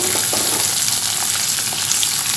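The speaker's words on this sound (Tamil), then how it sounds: "வெங்காயம் சேர்த்து நல்லா வதக்கிக்கலாங்க" Onions sautéing in a pan for a mutton keema gravy, a dense loud sizzle heard close up with quick stirring scrapes throughout, and no voice.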